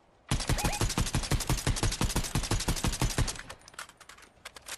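Rapid automatic gunfire from the Fortnite video game rattles out in a dense, loud burst of evenly spaced shots for about three seconds, then trails into a few scattered softer reports.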